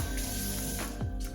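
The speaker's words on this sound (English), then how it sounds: "I'm going to spray this off really quick so that the blackberry color does not stain." A kitchen sprayer rinses blackberry juice off a surface, a close hissing gush of water with dripping and splashing in short uneven bursts.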